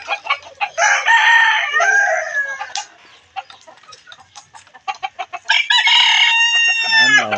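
Native Bisaya chickens in a backyard: loud close crowing and drawn-out calls at the start and end, with a run of rapid clucking in between.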